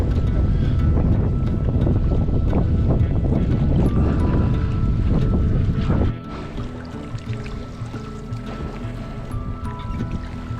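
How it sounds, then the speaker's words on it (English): Strong wind of about 30 km/h roars across an open lake during a canoe trip in Temagami. It is a loud, steady rush of buffeting gusts on the microphone that eases abruptly partway through to a quieter, lapping background. "Like 30-kilometer winds, not 12 like they're saying."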